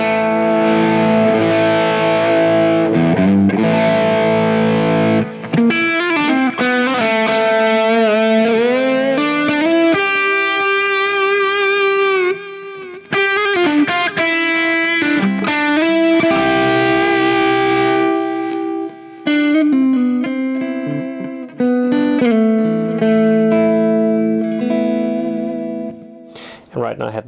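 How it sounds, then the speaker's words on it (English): An electric guitar through an Origin Effects Revival Drive overdrive pedal, sustained chords and melodic phrases with warm crunchy distortion and some echo, loud and continuous with brief pauses between phrases. "as I turn up the guitar's volume knob, I just get into a really lovely crunch."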